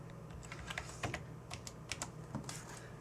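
Typing a word on a computer keyboard into an online Japanese dictionary, a brief run of quick, light key clicks, faint and close, over a low steady hum.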